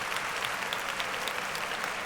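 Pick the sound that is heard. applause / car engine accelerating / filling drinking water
applause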